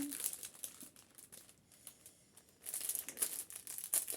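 A small plastic zip bag is pulled open with crinkling and rustling, bursts of crackle at the start and again near the end around a quieter pause.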